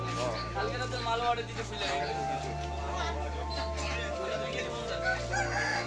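Roosters crow and hens cluck amid a busy hill-chicken market din in Khagrachari, with people talking nearby and a steady hum underneath.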